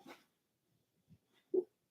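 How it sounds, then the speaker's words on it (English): A sleeping female dog lets out a few soft, muffled woofs and whimpers, with brief isolated yips separated by silence and the last one the loudest. "She's barking in her sleep."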